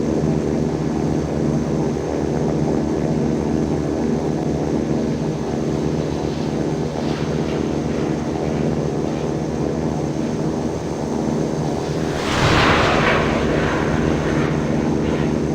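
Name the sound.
aircraft taking off from runway, Infinite Flight video game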